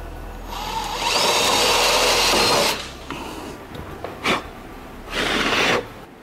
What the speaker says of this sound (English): Drilled out the three rivets,